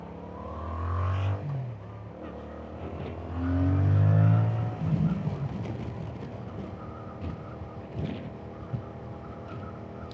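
Yamaha MT-07 motorcycle on a freeway, engine note rising and falling through gear shifts with a couple of louder revving surges over wind noise, heard from the rider's position.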